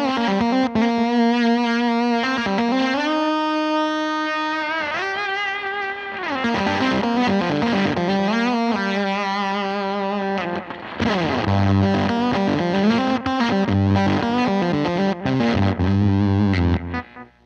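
Electric guitar played through two stacked gain pedals on a pedalboard, a loud distorted tone with chorus-like shimmer, sustained chords and bends ringing continuously.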